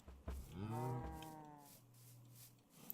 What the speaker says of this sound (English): Oh my gosh, the cows.